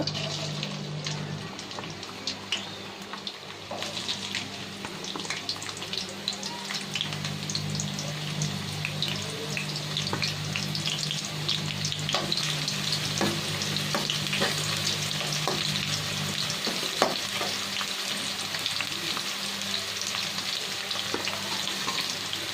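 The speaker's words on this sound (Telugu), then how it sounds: "ఆయిల్ హీట్ ఎక్కింది కాబట్టి మనం ఉల్లిపాయ ముక్కలు వేసుకుందాం ఫస్ట్" Onion pieces fry in hot oil for a fish curry, making a dense, steady sizzle with a crackling, rain-like spatter throughout. A few stirring scrapes cut through the frying.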